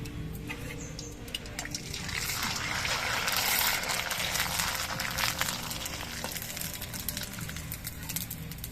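Rice-starch-water papad frying in hot oil gives a continuous bubbling, hissing sizzle that swells in the middle and then eases, close and steady.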